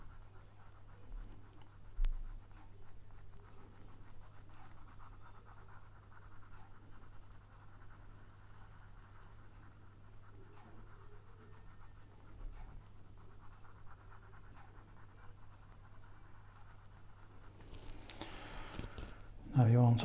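Pencil shades on paper in one-point perspective drawing, a faint, steady soft scratching that runs throughout at low volume with a steady hum underneath.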